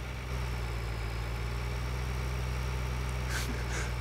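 Steady tractor engine drone from Farming Simulator 2013, pulling a mower attachment along streets, a low constant hum with no change in pitch and no talk over it.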